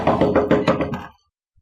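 Several firm knocks on a door in a domestic TV drama scene, about five raps in a steady rhythm, close and loud, followed by silence.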